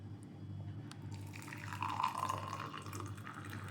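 Boiled water poured into a cup, a short close trickle and gurgle of liquid rising briefly in the middle over a steady low background hum, with no speech.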